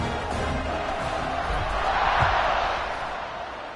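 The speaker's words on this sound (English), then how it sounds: "this crowd is buzzing after that last score" Football stadium crowd noise in a video game, a steady broad roar of buzzing fans that swells slightly midway, heard alone without commentary.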